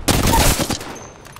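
Rapid burst of automatic gunfire in the Apex Legends video game, loud and close, fading into a short tail.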